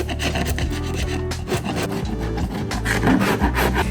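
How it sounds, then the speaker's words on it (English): Continuous scraping and rasping of a wood chisel chipping bubbled paint off metal, gritty and close, in rapid repeated strokes with no talking. "I'm using a wood chisel to chip off the bubbled paint"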